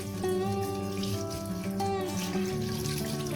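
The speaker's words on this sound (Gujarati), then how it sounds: "જ્યાં સુધી ચોખ્ખું પાણી ના થાય ત્યાં સુધી ધોઈ લેવાનું છે" Grains for a traditional Gujarati seven-grain khichdo are rinsed under a running kitchen tap, with a continuous close splash of flowing water and a faint tonal hum underneath.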